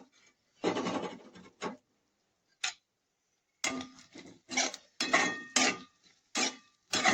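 Sprouted moong beans tipped into a pan with onions and stirred with a spoon, making close scraping and rattling bursts, some longer rustles and several short metallic scrapes, with no talk.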